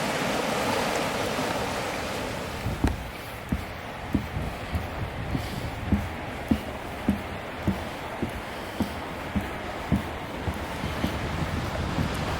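River running high with spring thaw water near Niagara Falls, a steady rushing wash heard from a riverside path, overlaid from midway by a regular series of sharp knocks or footsteps close to the microphone, with gusts of wind buffeting.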